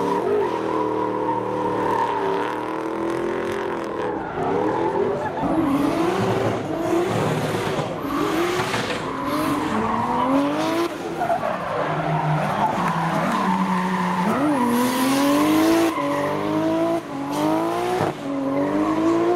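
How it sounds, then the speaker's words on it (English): A V8 car drifts hard with loud, continuous tire squeal and a roaring engine that revs up and down throughout, close and sustained. "the V8's turning up some rubber"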